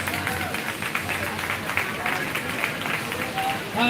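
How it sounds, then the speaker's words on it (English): Applause from a crowd in a livestock show arena at a 4-H and FFA market swine show, Lancaster County Super Fair 2024: a dense, steady wash of clapping that holds for the whole stretch, with faint voices mixed in. "Let's give our market swine exhibitors a big round of applause."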